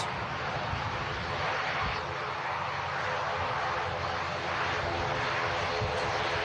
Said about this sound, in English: Emirates A380 on the move as well.